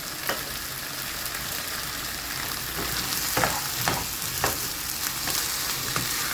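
Homemade sauce cooking on low heat in a pan alongside zucchini vegetables, a constant close sizzle and bubbling with occasional clicks of stirring, no voices.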